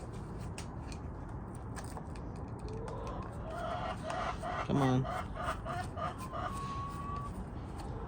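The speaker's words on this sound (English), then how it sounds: "I'm sorry about the chickens in the background" Chickens cluck in the background of an outdoor workspace during a Mantis tiller carburetor and fuel line repair. Moderate, intermittent bird calls rise mid-clip, including a brief crow-like call, under a steady background with a short spoken remark.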